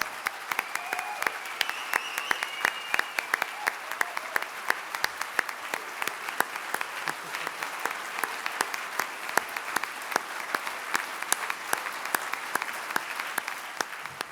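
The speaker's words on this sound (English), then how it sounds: "let's give them another round of applause" A conference audience gives a sustained round of applause for nominees and winners, dense steady clapping from many hands filling the room at an even level throughout.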